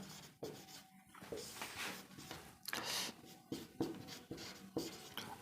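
A pen scratches across paper in short, quiet strokes with brief pauses as words are written by hand, close and soft.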